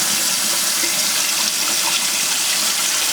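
Steady, broadband rush of tap water runs continuously into a bowl of rice being rinsed, close and fairly loud with no talk over it.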